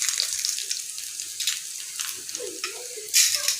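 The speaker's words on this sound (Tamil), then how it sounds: "நல்லா எண்ணெயில் சூடான எண்ணெய் போட்டிங்கன்னா இந்த கருவேப்பிலை வந்து நல்லா ஃப்ரை ஆகிடும்" Curry leaves and two dried red chillies fry in hot oil for a chicken gravy, giving a steady close crackling sizzle with brief louder spits and pops.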